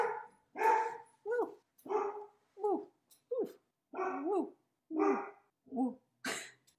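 Dogs bark close by in a quick run of about a dozen sharp, separate barks with short pauses between them. Each bark is loud and clear against quiet surroundings.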